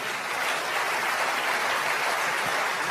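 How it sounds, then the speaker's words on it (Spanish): Congregation applauding during an evangelical church service, steady dense clapping filling the room at a constant level, with no voices over it. "Tienen que aplaudir más que eso si lo crees"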